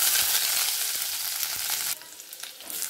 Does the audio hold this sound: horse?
no